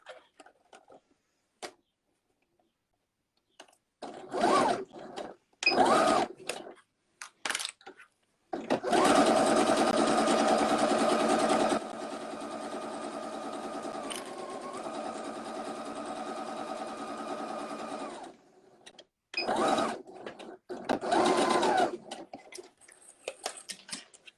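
A sewing machine runs along the second side of a cuddle-kit fabric piece, starting with short stitching bursts and then a long steady run of several seconds, before a few more brief bursts, close and clear.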